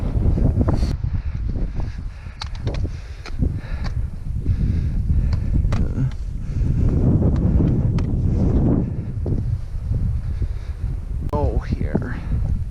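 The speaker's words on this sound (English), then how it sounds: "that wind is cold" Cold wind buffets an outdoor microphone in steady, rumbling gusts for the whole stretch, with rustling and occasional faint vocal sounds mixed in.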